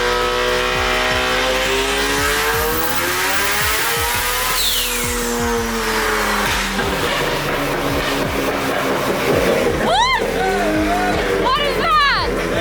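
A rotary-engined Nissan S15 with a DCT gearbox swap runs hard on a dyno, its loud droning engine note sweeping up and down through gear changes, with people talking over it.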